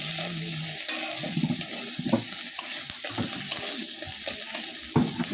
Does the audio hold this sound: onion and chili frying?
yes